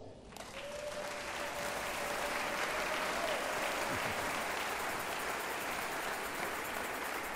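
A church congregation breaks into sustained applause that fills the space, steady and dense throughout, with a few cheers rising over the clapping.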